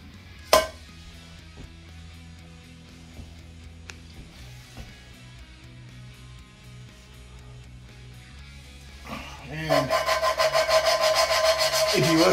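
Rough, rhythmic grinding and rubbing of valves being lapped with compound into a Ford GT40 cylinder head, a low scraping that turns into a brighter, harsher rasp near the end, close and steady.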